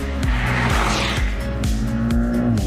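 A 365-horsepower Porsche sports car corners hard on the road near Saint-Tropez, its engine roaring steadily while the tires squeal through the bend, heard close from inside the car.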